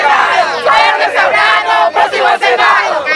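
A large crowd at a political rally in Tumaco, on Colombia's Pacific coast, chants a Senate candidate's name in loud, rhythmic, massed voices that rise and dip with each repetition.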